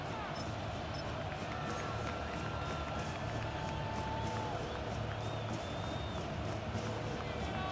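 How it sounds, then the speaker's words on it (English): Simulated stadium crowd in Madden NFL 26 during a Titans football game ahead of a big third down: a loud, steady roar of many voices that fills the whole stretch without letup. "the crowd getting into it as we come up on a big 3rd down"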